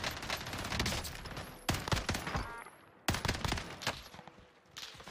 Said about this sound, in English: Who the fuck's shooting at me now?